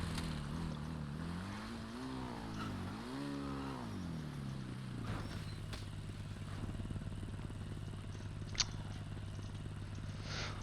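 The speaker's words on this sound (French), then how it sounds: "on va prendre la petite moto" A small motorcycle in GTA RP revs up, its pitch rising and falling twice before it settles into a steady running drone, faint in the mix, with a sharp click near the end.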